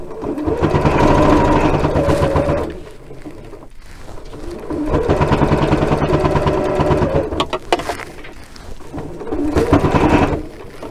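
Sewing machine running in steady bursts of rapid stitching on a jelly-roll quilting project, loud and close, with short pauses between runs as the fabric is turned.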